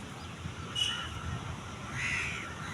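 Crows caw on a Kerala beach: two distinct calls about a second apart, moderately faint and somewhat distant, over a soft, steady background hiss.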